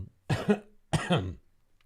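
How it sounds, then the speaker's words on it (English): Two close, loud coughs in quick succession, each a harsh double burst, followed by quiet. "I'll cough on the microphone"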